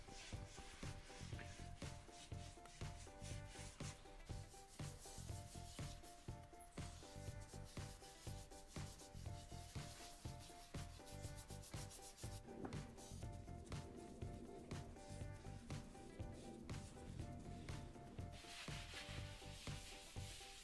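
A cloth rubbing teak oil into a scrap-wood workshop shelf makes quiet, rhythmic back-and-forth rubbing strokes that repeat steadily throughout, close and soft, with no talking.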